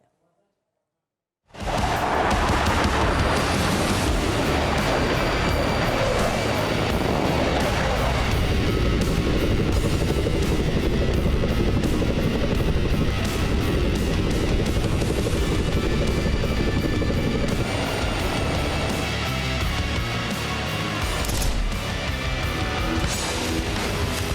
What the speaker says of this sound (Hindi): आसमान में उड़ते अमेरिकी फाइटर जेट।